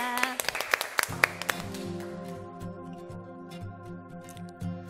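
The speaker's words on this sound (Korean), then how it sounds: "우리 하나님께 영광의 박수 올려드립니다." Congregation at a Korean church worship service clapping, a burst of sharp claps in the first second or so that gives way to sustained organ and keyboard music.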